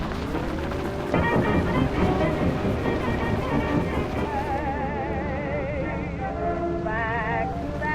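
A sputtering, underpowered vehicle engine in a video game turns over with a steady low drone and wavering whine, loud and continuous, while players talk over it.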